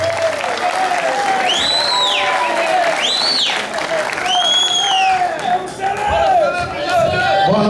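A crowd at a political rally in São Paulo keeps up loud, continuous applause, with shrill rising-and-falling whistles and cheering voices riding over the clapping throughout.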